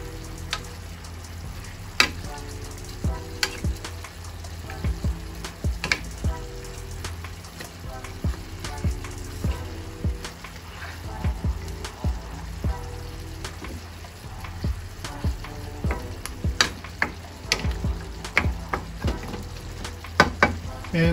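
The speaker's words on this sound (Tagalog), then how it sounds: "So, panibaliktad lang natin siya para ma-even yung pagkaluto niya." Chicken pieces fry and sizzle in a pan for peanut butter chicken, with a steady close crackle and repeated scraping, clattering stirs and turns throughout; a voice may be faintly present.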